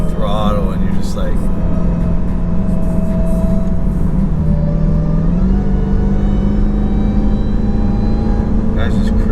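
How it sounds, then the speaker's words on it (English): A built Jeep Trackhawk cruising at light throttle, with a steady engine drone and a faint, continuous high supercharger whine riding above it, loud and close throughout. "you still hear the supercharger whine, just cruising along"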